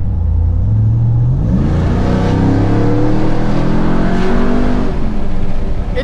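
A 6x6 Ram TRX pickup truck accelerating at full throttle, its engine note climbing steadily through rising gear tones, loud and continuous from inside the cab.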